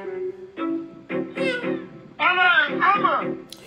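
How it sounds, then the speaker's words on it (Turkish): A cat meows repeatedly in a quick series of close, loud, drawn-out calls with rising and falling pitch, one after another with short gaps, and no other sound competing. "Bana bak altına kedi giriyor ya."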